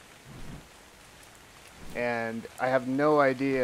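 Steady rain hisses in the video game ARK: Survival Evolved, continuing under a voice as he starts talking partway through.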